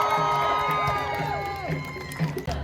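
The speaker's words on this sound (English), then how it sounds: "Could we all please give a round of applause" An outdoor crowd at an International Women's Day rally on Queen Street, Cardiff, cheers and whoops, with scattered shouts and sliding tonal sounds that fade toward the end.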